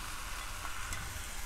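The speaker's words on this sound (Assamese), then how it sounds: "এইখিনি ভালদৰে ৰঙচুৱা হ'লৈকে মই ভাজি থাকিম" Onions and tomatoes sizzle steadily in hot oil for an egg curry, a close, even crackle that holds without pause and with no voices.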